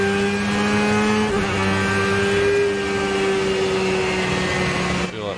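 A Porsche 911 race car with a boxer engine drives in a racing simulator game, its engine giving a loud, steady drone with a slight shift in pitch partway through as it holds speed on the out-lap.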